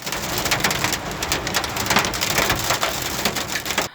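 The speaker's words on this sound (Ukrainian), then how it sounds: "Такий град випав цьогоріч у липні в Гурівській громаді." Hail pelting down in July in the Hurivka community, Kirovohrad region, a dense, steady rattling patter of stones hitting the ground and surfaces, loud and continuous throughout with no voices.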